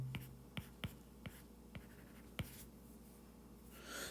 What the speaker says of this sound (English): let's just go ahead and write this down right here.